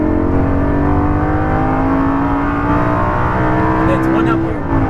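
An exotic sports car accelerates hard around a race track, its engine note rising steadily and loud throughout while an instructor talks over it.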